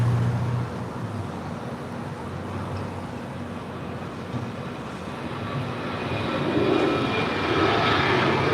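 A United Airlines jet airliner at LAX gives off a steady, loud engine roar that swells toward the end, with faint road traffic beneath and no voices.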